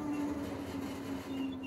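A 7 1/4 inch gauge miniature garden railway train slows as it crosses points into a passing loop, giving a steady close rumble with a sustained low hum and soft rolling clatter throughout.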